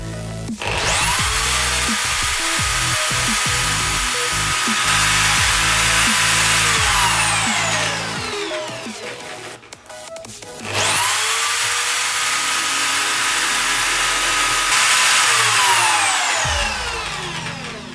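Two long bursts of a HiKOKI electric drill with an 8mm bit, mounted in a drill stand, whining up to speed and grinding through wood, each winding down, with a short pause between them.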